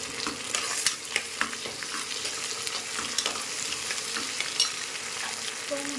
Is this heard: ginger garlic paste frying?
yes